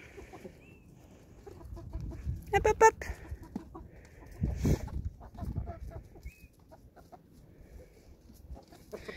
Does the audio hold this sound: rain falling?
no